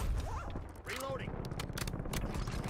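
A weapon reload in a military shooter video game makes a run of quick mechanical clicks and clatter over rumbling background fire, with a voice speaking over part of it.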